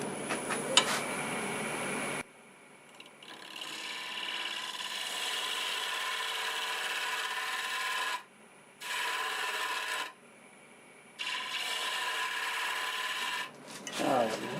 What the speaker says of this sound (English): Here's a spindle gouge just to clean that up a little bit.